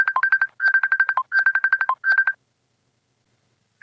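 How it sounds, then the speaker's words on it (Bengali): An incoming call on a phone plays a ringtone of rapid electronic beeping pulses in four short bursts. The ringing is close and clear, then stops abruptly into silence. "দাঁড়ান, আমার কল আসছে।"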